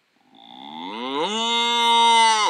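A single long cartoonish moo sound effect played in Pro Tools, rising in pitch at the start then holding steady and loud before cutting off abruptly; no talking.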